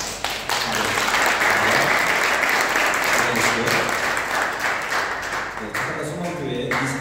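Loud, sustained applause from a Sunday church congregation welcoming visitors, a dense roar of clapping that thins slightly near the end as a voice begins speaking.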